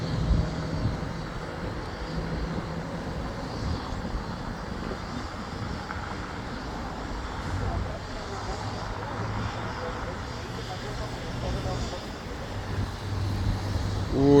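A LATAM Airbus airliner lands at Guarulhos airport, its engine roar heard from a distance as a steady broad rumble mixed with roadway traffic noise, growing louder near the end.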